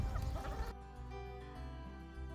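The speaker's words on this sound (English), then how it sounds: "I'm being followed by a whole lot of griping, hungry hens" Hungry hens in a flock clucking close by, a burst of busy overlapping clucks that gives way to quieter, drawn-out murmuring calls.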